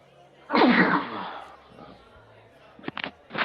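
A single loud sneeze bursts out near the microphone during a fantasy football podcast, followed by quieter talk and a few short vocal sounds.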